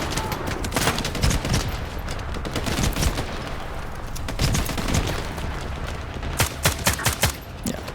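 Gunfire from shotgun snipers in the video game STALKER 2, a dense run of loud sharp shots and blasts, some overlapping in quick bursts, with no clear speech.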